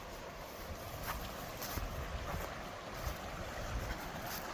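Steady broadband rush of a high-running creek at Granite Creek Campground, continuous and fairly close with no breaks and no voices.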